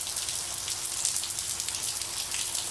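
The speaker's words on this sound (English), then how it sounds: "it's a rainy day in North Texas" Steady rain falls on a rainy day in North Texas, a dense, even hiss of drops hitting surfaces, close and continuous with no voices.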